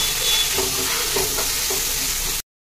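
Veg hakka noodles with black pepper, salt and soy sauce being stir-fried, a loud continuous sizzle with a few spatula scrapes, ending abruptly in silence.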